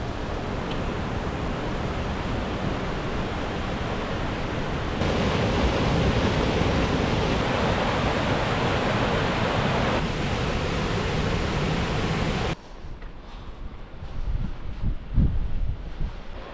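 Roaring waterfall on the river Cynfal at Cwm Rheda in a rainy Snowdonia rainforest, a loud steady broadband rush that continues for most of the clip, then drops to a quieter, gustier wash near the end.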